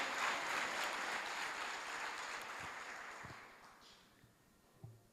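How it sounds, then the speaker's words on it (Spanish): A church congregation claps at an evening service, starting as dense, full applause and slowly thinning and fading toward the end, with a few isolated claps left over. "Vamos, dale gloria, aplaudile en esta noche."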